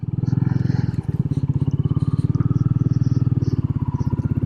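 A Royal Enfield Meteor 350 motorcycle thumps along in a steady, rapid single-cylinder beat, loud and close throughout while being ridden.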